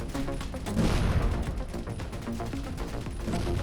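Spaceship weapons in the space combat game Avorion fire in a rapid, dense barrage of bursts and booms, loud and continuous throughout with no talking.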